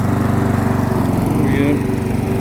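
A Briggs & Stratton lawn mower runs close and loud, mulching grass with a steady throbbing engine drone and a faint rise as it cuts, while someone talks over it.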